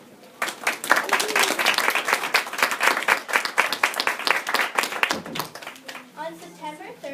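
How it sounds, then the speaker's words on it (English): Audience applause welcoming delegates at a school constitutional convention event, dense steady clapping from many hands filling the room for several seconds before fading into a few scattered claps. "Welcome our delegates with a warm round of applause."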